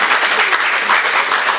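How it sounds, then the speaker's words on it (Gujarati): An audience bursts into enthusiastic applause at the N.A.B. district branch convention 2024 award ceremony. A brief, dense wash of many hands clapping, loud and steady throughout. "જોરદાર તાળીઓથી આપણે સામૂહિક રીતે બધાને વધાવી લઈએ"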